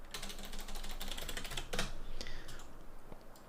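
Someone types on a computer keyboard in a quick burst of close, crisp key clicks that slows to a few scattered taps, with no talking over it.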